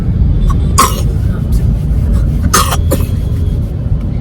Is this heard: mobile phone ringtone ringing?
no